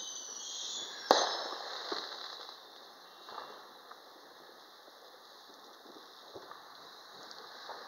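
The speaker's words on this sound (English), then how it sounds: "who needs to buy fireworks when everybody else is shooting off fireworks?" Distant 4th of July fireworks go off in scattered pops and crackles, one sharper burst near the start and fainter reports after it, over a steady outdoor background hiss.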